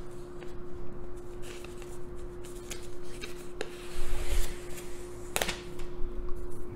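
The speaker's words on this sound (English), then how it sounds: "let me just remove the plastic if I can" Plastic wrap being peeled and rubbed off a white Apple iPad 10.2-inch 8th generation tablet, a close crinkling and scratching with a few sharp crackles over a faint steady hum.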